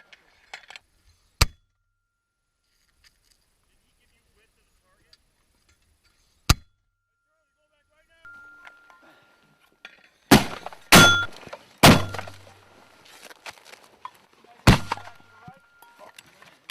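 A US military mortar live-fire exercise, with sharp, loud blasts spaced apart across an open range, a cluster of heavy booms near the end, and shouted voices in between.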